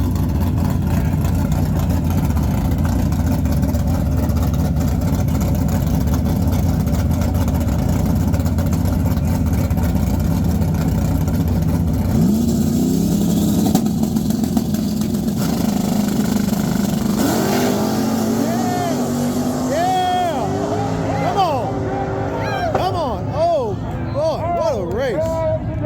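Drag racing engines at Southside Dragway roar continuously, a loud sustained motor drone with rising revs building to a pass, while a commentator talks over it toward the end.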